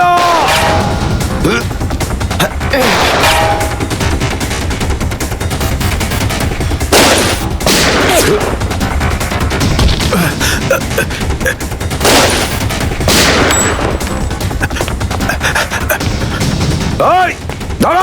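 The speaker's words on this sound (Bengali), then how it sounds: "সিআইডি অফিসারকে গুলি করে দিলি?" Loud, sustained gunfire in a televised police drama shootout, rapid bursts and single shots cracking over tense music and shouting voices for the whole stretch.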